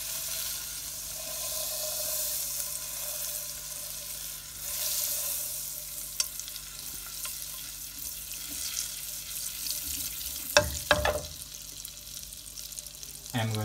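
A piece of butter melts in a hot pan with a soft, steady sizzle, and a few sharp clanks of a utensil against the pan come near the end.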